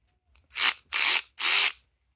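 MAC and Snap-on long neck power ratchet running in three short bursts, each a loud buzzing whir of about a quarter second, close and alone.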